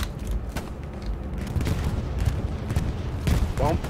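An enemy bombing run in the WW2 game Hell Let Loose, a dense, rumbling roar of distant explosions and battlefield noise that continues throughout at a steady, heavy level.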